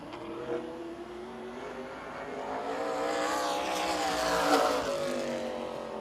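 A race car at Birch Run Speedway runs a qualifying lap, engine droning steadily and swelling louder as it nears and passes before fading slightly.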